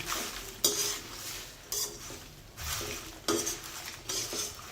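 Biryani masala spices, including bay leaves and dried chillies, dry-roasted in a pan over low heat: a spatula scrapes and stirs in repeated strokes about once a second, close and clear, with no talk.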